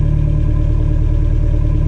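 A Toyota truck with a stage 2 engine, header and MagnaFlow muffler idles steadily and loudly nearby, a slightly high, lumpy cammed idle with a deep, continuous exhaust rumble.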